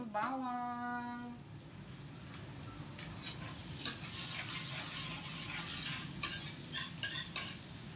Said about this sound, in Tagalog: Ihulog na natin yung bawang